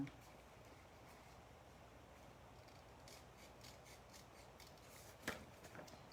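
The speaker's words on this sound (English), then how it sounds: "we're just going to come in with our snips and trim around that flap." Quiet, repeated snipping of small craft snips cutting through paper, several cuts in a row near the end, over a faint steady background hiss.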